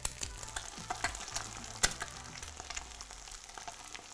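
Food cooking in an enameled cast iron pan: a soft, steady sizzle broken by sharp taps and clinks of a utensil, one louder knock near the middle, quiet and close with no voices.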